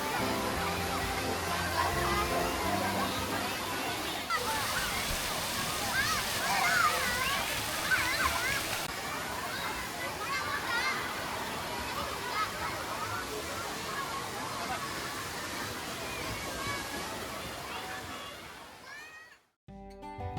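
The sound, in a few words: children splashing and playing in a waterpark kids' pool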